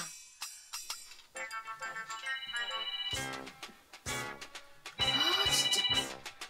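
A phone ringtone plays a bright electronic melody of repeating tonal notes that swells louder in its final seconds, close and clear with no talking over it.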